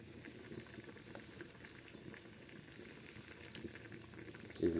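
Potatoes boiling in a pot in a village kitchen, a quiet, steady bubbling patter heard close, with a slightly louder bump at the very end.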